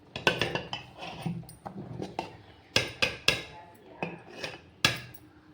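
Spoon stirring milk rice (sweet kalkandu paal pongal) in a metal pot, with repeated clinks and scrapes against the pot in an irregular rhythm, fairly close and moderately loud.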